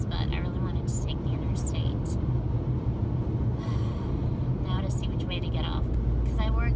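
Steady road rumble and tire roar inside a car moving along a busy interstate toward Nashville, continuous and fairly loud, with a voice speaking over it at times.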